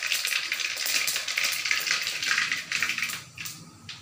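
Mustard seeds sizzling and crackling in hot oil while fish curry is cooked, a dense continuous hiss with scattered sharp pops, close and steady throughout.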